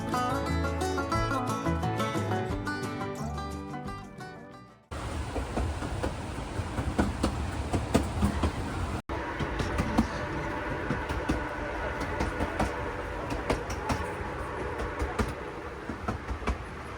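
A passenger train car rumbles and rattles along the tracks, a continuous near roar with clattering bumps, after a few seconds of music at the start.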